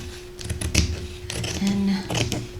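Scissors cut through denim from old jeans, with a few crisp snips and crunching strokes close by amid quiet handling noise and a brief hum in the background.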